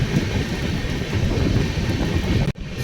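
Rajdhani Express train rolling past in heavy fog, a steady loud rumble of wagons and wheels that holds for over two seconds and then cuts off abruptly.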